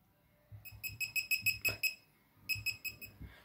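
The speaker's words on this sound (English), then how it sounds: "You can use the right and left arrow keys to determine how loud each beep is." Series of short, bright electronic beeps from a laser projection keyboard's keys, about ten quick tones in a steady run, a pause, then a few more, close and clear with light tapping beneath.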